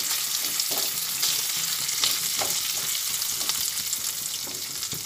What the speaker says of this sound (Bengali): সব দিয়ে ভালোভাবে একসঙ্গে আবার নাড়াচাড়া করে নিচ্ছি। একসঙ্গে সব ভেজে নিই।